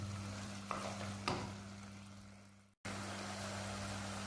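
Keema cooking with kasuri methi in a pan gives a steady low frying hiss with a couple of brief stirring scrapes, a short dropout, then the sizzle continues evenly.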